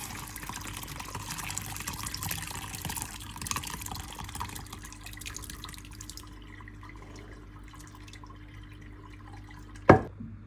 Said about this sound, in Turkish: Soğuyan çökeleğimizi çökelek çorbasına döküp süzülmesini bekliyoruz.